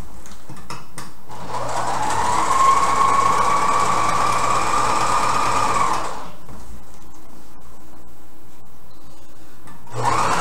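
Sewing machine stitching satin for a cocktail dress: a steady, loud mechanical whir running for about four seconds, then stopping, with a brief restart at the very end.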